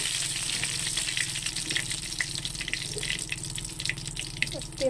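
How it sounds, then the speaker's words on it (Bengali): Hot oil sizzles steadily around a frying hilsa fish head. The hiss is close and constant, with light crackles and some clatter from the pan throughout. "তেলটা গরম হয়ে গেছে, মাথাটাকে ভালো করে ভেজে দেবো"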